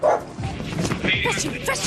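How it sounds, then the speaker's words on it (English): A police dog barks and yips excitedly up close, several sharp barks in quick succession mixed with whining, with voices talking underneath. "a police dog is a four-legged superhero"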